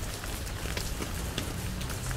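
Rain patters steadily on a tarp shelter while campers lie beneath it in the Brdy woods, a dense, even hiss of drops with scattered louder taps, close and continuous.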